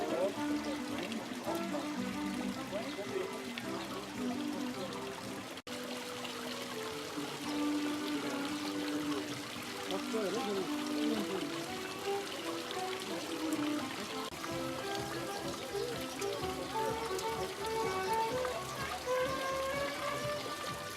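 Ornamental fountain in the centre of Tavira, with water splashing and pouring in a continuous, moderately quiet stream, accompanied by faint bird chirps and distant voices in the background.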